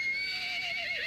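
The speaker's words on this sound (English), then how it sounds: "It's not really an attack, but it kind of prepares to neigh" Unicorn (Equus) creature in the ARK Survival video game neighing, a single drawn-out whinny with a falling pitch sweep, clear and upfront over a steady game-ambience bed.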